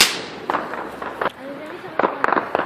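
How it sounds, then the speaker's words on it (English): Fireworks bursting outdoors on a dark night, several sharp cracks and pops spaced irregularly, some in a quick cluster near the end, with people chatting nearby. "Oh, fireworks."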